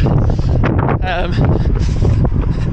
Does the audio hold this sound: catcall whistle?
no